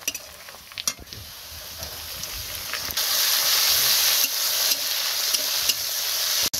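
Garam masala with onion, garlic and ginger paste frying in a pan: a few clinks and light sizzling, then a sudden loud surge of hissing sizzle that stays steady, with occasional utensil scrapes.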